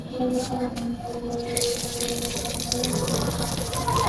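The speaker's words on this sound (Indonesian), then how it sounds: "Dan kita alirkan keran selama 30 detik sampai 1 menit" Water gushes steadily from a tap left running before a sample is taken, a continuous close splashing stream that grows brighter partway through.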